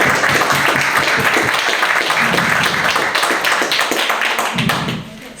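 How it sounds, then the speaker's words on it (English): Audience applause celebrating a newly promoted Deputy Inspector, many hands clapping in a dense, steady patter that holds loud for about five seconds and then tapers off. "A big round of applause for him."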